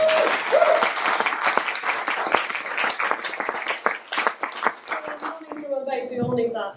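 An audience at a youth music education launch event in Lancashire gives a sustained round of applause for Logan, dense clapping filling the room for several seconds before fading into a voice near the end.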